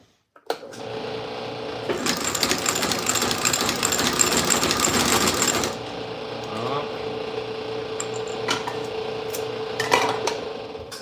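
A sewing machine stitching new soles onto boots runs in a fast, loud, continuous clatter for several seconds, then slows into a quieter, steadier run with occasional mechanical clicks.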